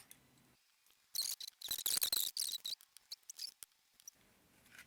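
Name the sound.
scissors cutting paper for paper doll clothes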